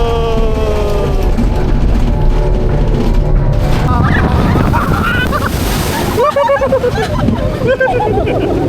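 Wind buffeting and water rushing past a moving boat, with people talking over the churning noise throughout.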